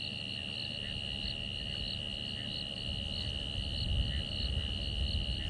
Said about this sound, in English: Frogs and crickets are really beginning to call now